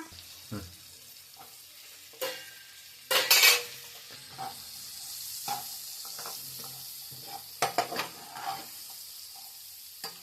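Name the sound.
carrot and capsicum stir-frying in a pan for pasta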